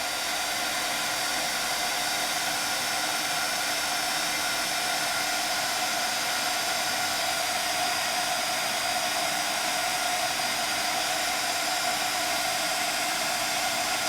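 A heat embossing tool melts embossing glaze with a steady, continuous high-pitched blowing whir, like a small hair dryer, heard close and alone without pauses.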